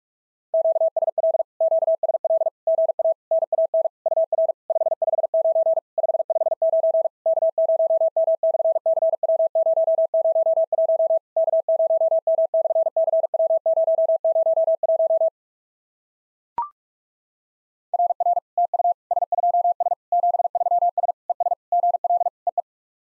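Fast Morse code at 45 words per minute for a summits-on-the-air contact practice, a clean single-pitch tone keyed in rapid dits and dahs, pausing briefly with a click before the sending resumes.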